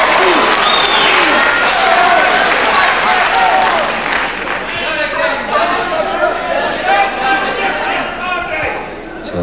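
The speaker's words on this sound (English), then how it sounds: "you can hear whose side the crowd's on" A wrestling crowd at Civic Hall, Guildford roars and cheers loudly and continuously, with applause and shouts filling the hall throughout, while a commentator's voice runs over the noise.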